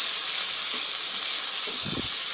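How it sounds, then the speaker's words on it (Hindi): Chicken pieces fry in oil with browned garlic in a pan, a steady close hiss and sizzle throughout with a brief low stir or clatter near the end. "3 से 4 मिनट हम चिकन को फ्राई कर लेंगे अच्छी तरह से"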